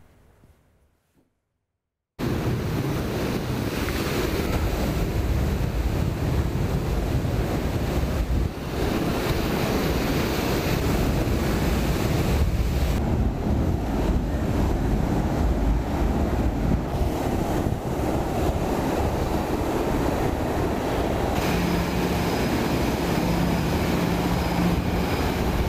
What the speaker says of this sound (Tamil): கடல் கொந்தளிக்கும் காட்சிகளை முதலில் பார்க்கலாம்